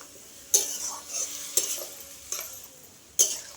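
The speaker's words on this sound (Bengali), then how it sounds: "জল দিয়ে ভালো করে কষতে থাকবো আলুটা ঝিঙেটা" Four separate scraping stirs of potatoes and ridge gourd being fried in a pan with a little water, each a short spatula stroke over a soft steady sizzle, fairly quiet and close.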